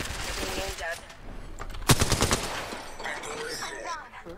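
A brief burst of rapid gunfire from a player shooting in a video game, a few quick loud shots in the middle amid game sounds and background noise, with a voice speaking faintly around it.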